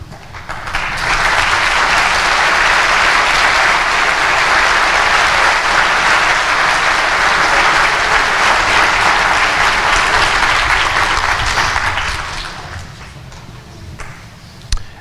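Large commencement audience applauding academic staff, a dense sustained roar of clapping that swells in, holds steady for about eleven seconds, then fades out.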